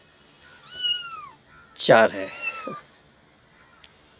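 A cat meows twice at close range, first a short rising call and then a louder, drawn-out wail, while a voice speaks briefly.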